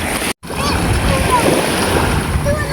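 Strong gusts of wind buffet the microphone by the shore, with a constant roaring rush and surf in the background, briefly cutting out near the start.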